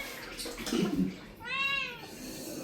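A cat gives a single short meow partway through, fairly faint and close, with soft rustling and a brief low voice before it.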